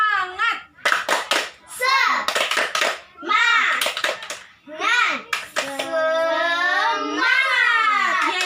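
Schoolchildren in a Grade 4 primary classroom chant a rhythmic 'tepuk semangat' clapping routine together, their loud unison voices rising and falling over about eight seconds with bursts of clapping between the chanted lines.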